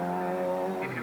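A Vauxhall Astra Formula 2 two-wheel-drive rally car, driven hard on a wet stage, passes close with a loud, harmonic engine roar held at high revs for a brief moment.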